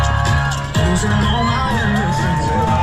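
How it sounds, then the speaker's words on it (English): Crowd cheering along the course of the New York City Half Marathon, with loud continuous whoops, shouts and children's voices from spectators close by, filling the whole stretch. "Crowds are pretty good right now."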